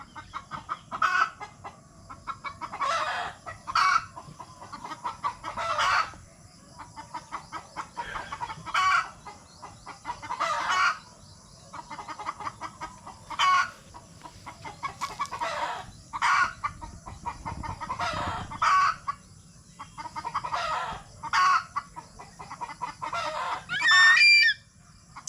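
Agitated chickens and a rooster, repeated loud squawks and clucking bursts in an irregular rhythm over about twenty-five seconds, fairly close, with a brief crow near the end.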